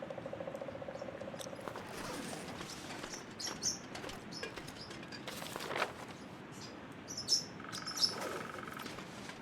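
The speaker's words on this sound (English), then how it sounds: "Shut up, birds. No one's listening to you." Birds chirp and tweet in short bright bursts over a steady bed of cricket-like insect buzzing, with a few louder calls standing out near the end, all fairly faint and with no one talking.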